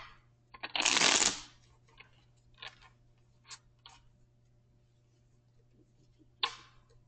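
A deck of playing cards riffled in one loud burst, followed by several softer taps and card snaps spaced across the quiet, with a final brief riffle near the end.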